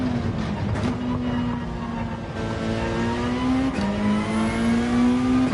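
A race car in Gran Turismo 7 accelerates hard while exiting a turn, its loud engine whine climbing steadily in pitch, dropping briefly at a gear change, then rising again with no talking.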